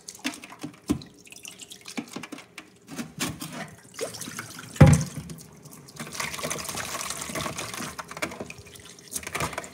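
Sea moss is swished and handled in a bowl of cleaning water, giving irregular drips, splashes and trickles, close and intermittent, with one louder splash midway.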